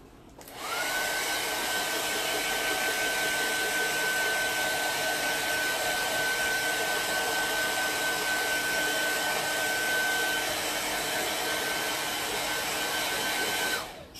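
A hair dryer blows steadily to dry paint on a wooden salt box, a continuous whining airflow with a high steady tone, close and loud, starting and stopping cleanly with no talk over it.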